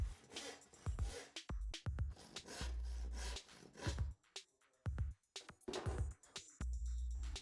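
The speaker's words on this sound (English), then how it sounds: "Cut the board using a handsaw or jigsaw." A handsaw cutting through a laminate floor board, heard as a faint series of separate rasping push-and-pull strokes with short pauses between them and no speech.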